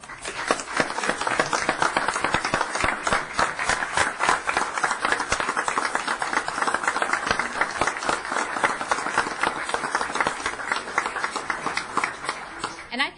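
Sustained applause and clapping from a board and audience at a school board meeting honoring a high school's award, steady and fairly dense throughout with some overlapping voices.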